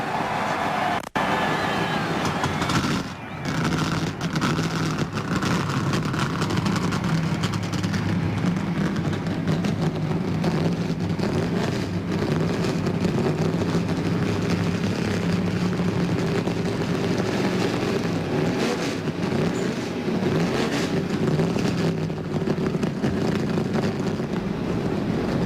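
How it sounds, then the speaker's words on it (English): NASCAR Winston Cup stock car engines firing up together at Daytona for the 1997 Busch Clash, a loud continuous roar and rumble that holds steady throughout. "Gentlemen, start your engine."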